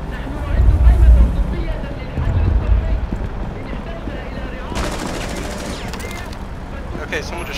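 Gunfire in Rainbow Six Siege on a Border team deathmatch map, with two heavy low bursts early on, then quieter crackle and clatter while players talk over the game audio.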